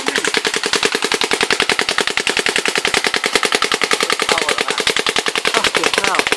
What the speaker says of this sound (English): That's what you call a fucking gun!